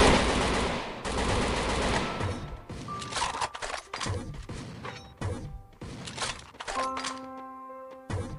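Gunfire in Garena Free Fire, sharp bursts of rapid shots at the start followed by scattered single cracks and thuds, loud and close, with tonal game effects near the end.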